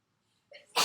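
A single sneeze, quiet and brief: a short intake followed by a sudden sharp burst at the very end.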